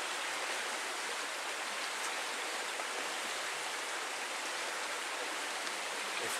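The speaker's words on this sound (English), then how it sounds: "gas that I want to get into this container." Gasoline pours into a container in a continuous, even liquid rush that stays close and steady from start to finish.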